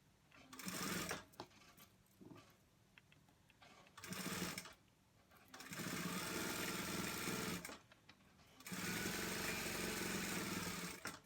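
A sewing machine sews the hood onto a fleece hoodie in four runs: two short buzzing spurts, then two long steady stretches of stitching, close and loud with quiet pauses between.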